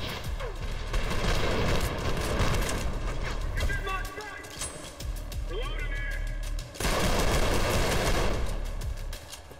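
Rapid gunfire in the shooter Trepang2, dense bursts of shots and impacts with a booming low rumble, breaking off briefly mid-way for mechanical clicks before resuming loudly, a voice speaking over part of it.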